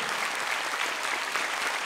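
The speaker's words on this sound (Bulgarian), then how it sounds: "Благодаря ви за аплодисментите" Sustained applause from a concert crowd at a folk ensemble's anniversary performance, an even, dense patter of many clapping hands with no pauses, loud and close.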